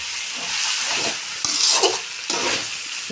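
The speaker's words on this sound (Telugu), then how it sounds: "ఇప్పుడు మళ్ళీ ఒకసారి బాగా కలుపుకోవాలి" Chicken egg noodles with coriander are stirred in a hot pan, a steady sizzle rising and falling with the tossing, with a few soft scrapes against the pan.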